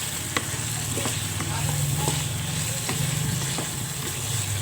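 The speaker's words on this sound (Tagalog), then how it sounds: "Igisa lang natin kasama ang pork." Okra and string beans sautéing with pork in a pan for adobo, a steady loud sizzle with repeated sharp scrapes and stirring clicks of a spatula, no talking.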